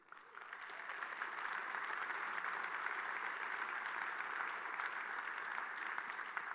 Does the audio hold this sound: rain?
no